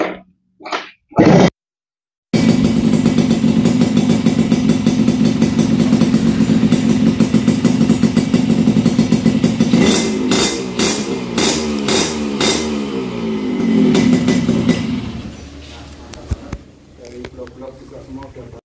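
A fully restored Yamaha RX King two-stroke motorcycle engine starts after a few short bursts, then runs loud and close with a rapid, buzzing idle and throttle blips before dropping away, while someone talks nearby.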